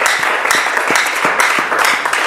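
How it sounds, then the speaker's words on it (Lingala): A church congregation claps rhythmically in praise, with close, even hand claps in a steady beat over a roomy wash of crowd noise. "On va acclamer très fort le Seigneur."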